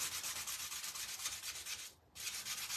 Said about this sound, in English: And I'm only going to sand.